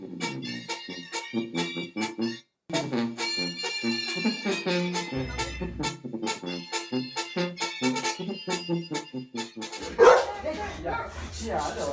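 A dog barks and yips repeatedly up close in an outdoor setting in Mexico, loud rapid bursts with whimpers between and a brief gap, while people talk over it.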